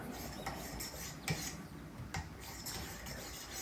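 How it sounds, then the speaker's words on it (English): A Schrade LB7 folding knife worked across a 1000 grit diamond stone gives faint, quiet scraping strokes, a few sharper swipes standing out from a soft steady rasp, with no talking. "I'm still gonna go to the 1000 grit diamond"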